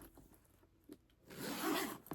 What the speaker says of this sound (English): You've got your front zipper pocket here